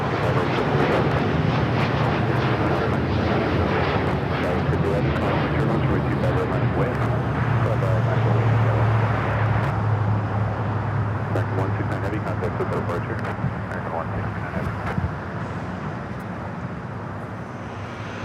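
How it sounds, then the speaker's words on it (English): An American Airlines Boeing 787-9 Dreamliner takes off at Los Angeles airport. A sustained deep engine roar with a low rumble stays loud, then eases slightly toward the end, while people talk over it. "That was American Airlines 169 taking off to Tokyo Haneda on the 787-9 Dreamliner"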